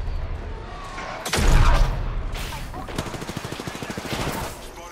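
Apex Legends gunfire, with a heavy boom followed by rapid repeated shots in an even automatic burst, loud and close, with game effects around them.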